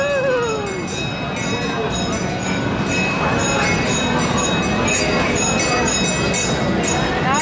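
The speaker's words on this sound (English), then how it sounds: "The train's going by." A train rumbles steadily past close by, with squealing wheels and metallic clinks throughout, while voices chatter over it.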